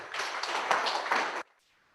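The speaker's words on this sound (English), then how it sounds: "Ladies and gentlemen, another hand clap." A short burst of audience applause rings out at a teacher seminar, lasting about a second and a half before stopping abruptly, moderately loud with no talk over it.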